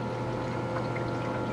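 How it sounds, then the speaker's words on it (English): A countertop ice maker runs steadily with water in it, giving a continuous close hum with a liquid pumping, gurgling wash and no breaks or voices. "This is my ice maker."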